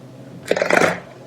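A quick riffle of a deck of cards, a brief crisp flutter lasting under a second in an otherwise quiet room.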